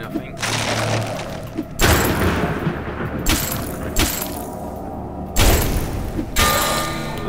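Heavy booming bursts go off in a video game fight after a freeze bomb is thrown, several loud explosive thuds with shattering crackle spaced a second or two apart, mixed with clattering.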